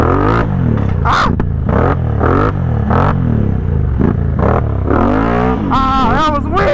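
A four-wheeler ATV engine revs hard and repeatedly in rising and falling surges during a wheelie, loud and close, with shouting voices breaking in near the end.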